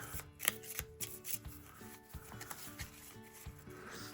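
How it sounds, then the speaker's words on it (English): A small deck of 18 reindeer cards from the Santa's Workshop board game is shuffled close up on a table, giving soft, quiet riffling and rubbing strokes in an uneven rhythm with no talking. "we are only going to work with these 18 standard reindeer, which we're going to shuffle up here"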